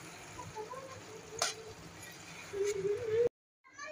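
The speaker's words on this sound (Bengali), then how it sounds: "এখন একটু হালকা করে নেড়ে চেড়ে নামিয়ে নেব।" A fish and water spinach curry (kurhal fish with kalmi greens) is stirred in a pan, giving a soft continuous sizzle and scraping with a brief utensil clink, close by, then stopping abruptly into near silence at the end.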